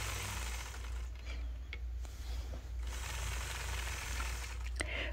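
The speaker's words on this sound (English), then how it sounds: "I'll start out by stitching in the ditch all the way around the outside of the block" A sewing machine runs close and steady, quilting stitches around the outside of a hexagon star quilt block, its needle mechanism chattering in a fast continuous rhythm with a couple of short pauses and no talk.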